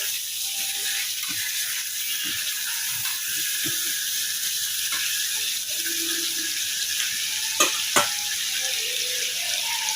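Fish frying in a pan with tomato, green chili, chili powder and salt gives a steady, moderate sizzle throughout, with occasional light clinks and scrapes as the pan is stirred.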